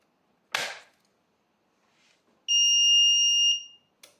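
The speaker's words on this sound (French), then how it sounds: "Donc maintenant je vais allumer la machine, ça va faire bip bip, ça va faire bip bip dans tous les sens." A household machine switched on at home gives a loud, sharp crack, then, after a pause, a steady electronic beep lasting about a second, followed by a short faint blip, with no talking.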